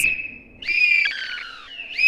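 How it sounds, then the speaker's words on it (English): Nose whistles shrill in sustained, sliding tones, loud and close. The pitch wavers and bends across two or three blown phrases, with short gaps between them. "kids were whistling through their noses"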